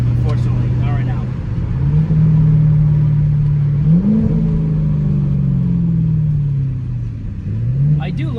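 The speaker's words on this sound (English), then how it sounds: "I do love the way this car sounds" A rare automatic muscle car with resonator and muffler deleted rumbles deep and loud, rising and falling as it revs through several throttle swells, with a voice talking briefly over it.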